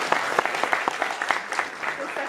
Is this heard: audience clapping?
yes